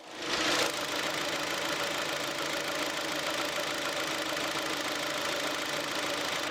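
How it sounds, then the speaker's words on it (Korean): A Hyundai YF Sonata sedan engine idles steadily and evenly up close with the hood open, a constant low hum with a brief louder rev at the start, no knocking or belt noise. "엔진 소리 들어보도록 하겠습니다"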